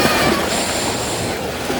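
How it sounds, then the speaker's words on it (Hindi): Sea waves wash in at the shore in Diu as the water rises, producing a steady, loud broadband roar of surf that carries on throughout the clip with no speech. "मेरे सामने लहर फिर से आ रही है"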